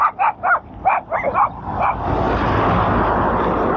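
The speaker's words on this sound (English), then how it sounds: "Got a dog." A dog gives a quick run of five or six close yipping barks, then a passing car's rushing noise takes over and continues steadily to the end.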